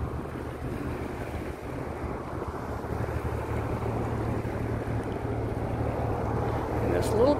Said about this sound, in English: Here's one of the yachts here that is starting to be pulled out from its docking place.